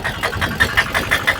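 A small auto rickshaw engine runs close by and pulses unevenly as a learner driver releases the clutch and opens the throttle.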